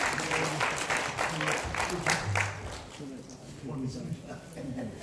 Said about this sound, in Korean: 오늘 감사패 공로패를 받은 모든 분들께 다시 한번 뜨거운 박수 부탁드립니다.